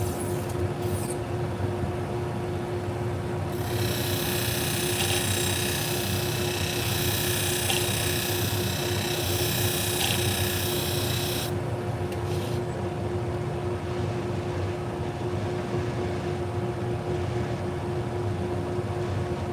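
Grooming shears sharpened on a powered sharpening machine, a steady bright grinding hiss sustained for several seconds over a constant motor hum, then stopping as the hum continues alone.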